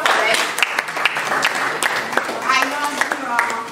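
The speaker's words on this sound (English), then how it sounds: "Please let's clap for them." An audience claps during an inauguration ceremony for a Lagos community water stakeholders group, scattered hand claps ringing out while voices speak through them.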